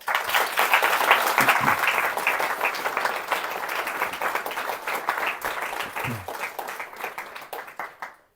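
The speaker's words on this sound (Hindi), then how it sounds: "एक बार फिर से जोर से ताली बजाओ" A loud, sustained burst of applause from a crowd at a Hindi house program in Holland, dense clapping rolling on for several seconds before tapering off.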